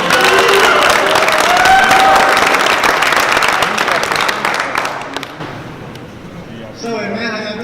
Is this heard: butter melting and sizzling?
no